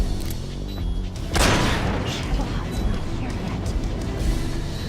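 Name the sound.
C3 explosive charges detonating in Metal Gear Solid 3 video game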